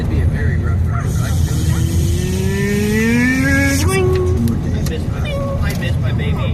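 Truck passing on the left of a moving vehicle, a loud steady engine roar with rising then falling tone as it goes by, heard under continuous road noise with talk in the background.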